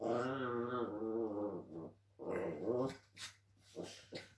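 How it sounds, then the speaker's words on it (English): Pet dogs playing indoors, giving several close, throaty growls and whimpering grumbles in bursts with short pauses between them. "This is going to be fun, isn't it, with dogs playing?"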